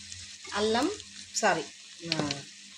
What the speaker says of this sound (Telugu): ఇప్పుడు మన ఆనియన్స్ అయితే మంచిగా ఇట్లా ఫ్రై అయినాయి.